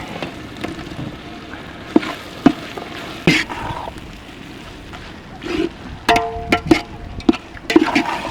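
Ginger garlic paste and tomato fry in a clay pot for a quail egg gravy, giving a low, close sizzle broken by occasional stirring clatter and scraping.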